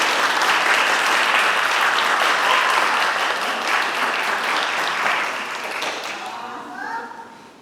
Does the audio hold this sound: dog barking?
no